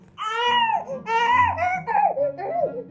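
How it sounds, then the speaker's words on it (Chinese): A hungry newborn cries in repeated rising-and-falling wails, loud and close, several bursts with short breaths between, the kind of cry made before feeding rather than coughing; adult voices murmur softly underneath. "这哪是咳嗽了？这是正常的哭的声音"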